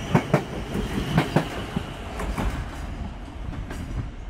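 British Rail Class 450 electric train bound for London Waterloo passes at Guildford, with a quick series of sharp wheel clacks over rail joints fading into a softer, more distant rolling hum.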